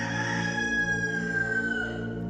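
A rooster crows with a strange, drawn-out, mournful call, one long sustained cry that slowly falls in pitch, loud and close with a steady background beneath it.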